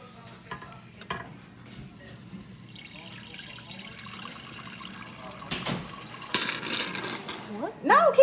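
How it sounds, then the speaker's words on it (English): Running tap water flushes through a new water filter cartridge, a steady splashing hiss into a sink with clinks and some voices talking nearby. "we gotta do is flush out 4 gallons of water before we can use the water filter."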